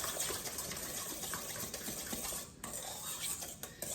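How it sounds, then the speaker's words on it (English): A utensil stirs peach cobbler batter in a bowl: continuous close scraping and swishing with small clinks against the bowl, fairly quiet and without talk. "I'm gonna stir that in my bowl till I get the consistency of like the cake batter"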